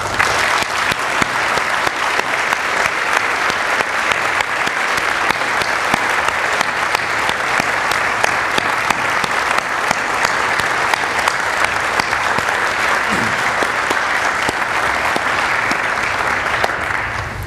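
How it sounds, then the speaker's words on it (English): Sustained, loud applause from a convocation audience at a Founders' Day and ODK ceremony, dense steady clapping that fills the hall from start to finish with no talk over it. "please join me in giving them a well-deserved round of applause."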